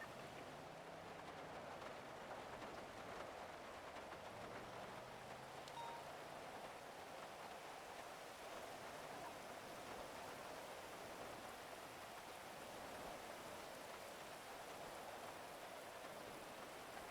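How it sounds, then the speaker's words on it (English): Steady rain falls in GTA V on the NoPixel roleplay server, a constant broadband hiss with no clear drops standing out. A low engine-like hum runs beneath it, and nobody speaks. "I actually hate how frequently it rains, especially in Polito."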